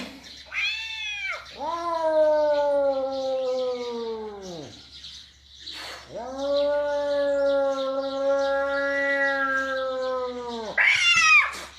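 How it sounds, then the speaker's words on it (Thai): A cat gives two long, drawn-out, wailing meows, loud and close, with shorter calls at the start and end. "แมวแมว"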